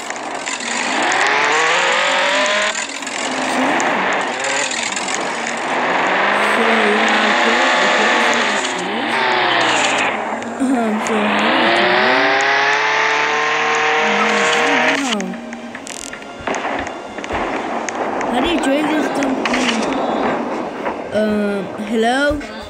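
A car driving in a video game: a loud, continuous engine that revs up and down in long rising and falling sweeps, then turns rougher and more broken near the end.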